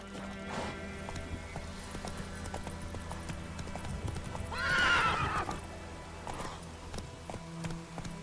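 Roach the horse from The Witcher 3 gallops with a steady rhythmic clip-clop of hooves, a loud whinny rising in the middle, all close and clear with no talk.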